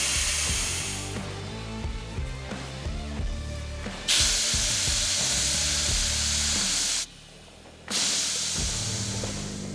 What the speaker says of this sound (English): we better let some air out of these tyres